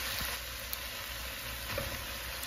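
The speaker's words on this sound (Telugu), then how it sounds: "వీటన్నిటిని వేయించుకోవాలి" Vegetable pieces for grandma-style sambar frying in a pan, a steady soft sizzle with a couple of faint stirring knocks, no one speaking.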